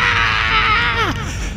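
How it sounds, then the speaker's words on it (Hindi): Loud, sustained scream from inside a house in a dramatized audio story, a shrill wavering cry that bends downward near the end over a background bed. "चीखने की आवाज आई"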